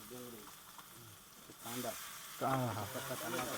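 Garlic and onion frying in oil at a roadside dhaba, a steady bright sizzle that swells louder midway, with someone talking over it.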